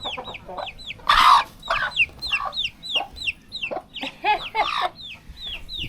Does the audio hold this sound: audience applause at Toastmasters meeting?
no